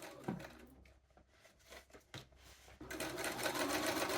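A sewing machine topstitches a diamond hem on trousers: a close, steady mechanical whir of rapid stitching that starts and stops briefly, then runs continuously and louder toward the end, with no speech.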